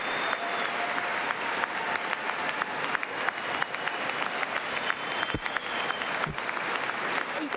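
Dense applause fills the chamber at a State of the Union address, steady and sustained clapping from a large crowd with a couple of low thumps partway through.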